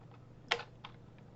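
A few sharp keystrokes on a computer keyboard while someone types a dictionary name in a Python session: one crisp, prominent tap, a softer second click, then a faint third, set against a quiet room hum.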